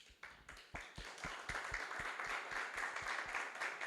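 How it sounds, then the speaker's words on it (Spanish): Clapping in a church congregation, a fairly quiet, distant spread of hands with sharp regular claps standing out in a steady rhythm over a soft wash of applause. "Denle un fuerte aplauso al Señor."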